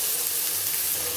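Green chili paste hitting a hot oil tempering for lemon pulihora, a dense, even, close sizzle with steamy hiss over a brief moment, no voices.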